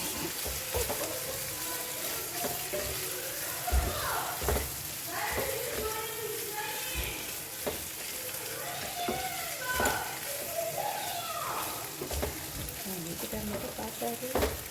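Pasta toasting with oregano in a pan, a continuous crackling sizzle with intermittent scraping stirs as it is tossed, close but fairly quiet, steady throughout with no speech over it.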